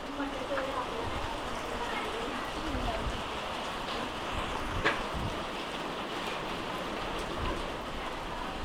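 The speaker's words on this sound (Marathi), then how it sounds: "बारीक बारीक पाऊस आहे" Steady light drizzle in a Konkan village in Raigad, falling amid sunshine, patters across the whole stretch, a soft even hiss with scattered drop ticks and a faint voice in the background.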